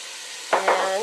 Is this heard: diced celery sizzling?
yes